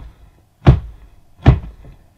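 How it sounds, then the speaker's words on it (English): Two heavy, dull thuds against a hatch, spaced about a second apart. Both are close and solid, and the surrounding moments are quiet. "I start hearing this banging."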